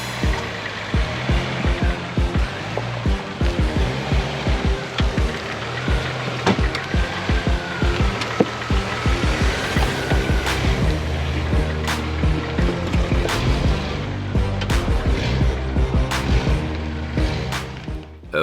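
A Jeep Wrangler crawls through an off-road obstacle on a summer trail run, its engine rumbling steadily close by while sharp knocks, clunks and scrapes break through the drone.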